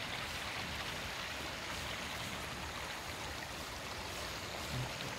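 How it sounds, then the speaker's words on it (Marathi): Zenith waterfall at Khopoli running with low flow in the dry season, a steady broadband rush of falling water that holds evenly throughout with no voices. "हा जो आहे तो झेनिथ वॉटरफॉल आहे"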